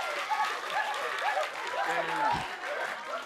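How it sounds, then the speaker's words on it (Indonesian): A studio audience at a televised comedy show claps briefly, the applause mixed beneath people speaking. "Oke, tepuk tangan dulu dong."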